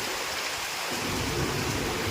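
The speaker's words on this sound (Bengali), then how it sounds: "বৃষ্টি তার আপন গতিতেই চলছে" Steady rain pours down, a dense continuous hiss that swells slightly louder after the first second, with no voices.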